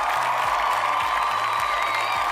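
Round of applause in a Roblox game, a steady, fairly loud wash of clapping and crowd cheering, with a low repeating bass melody running underneath throughout.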